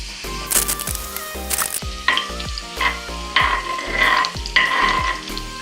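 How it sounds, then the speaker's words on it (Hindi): Ground garlic sizzles steadily in hot oil over low heat, with repeated scraping and clinking strokes from a spoon stirring in the pan. "तो अब इस तेल के अंदर मैं 1 टेबल स्पून पिसा हुआ लहसुन जो है वो डालने जा रही हूँ।"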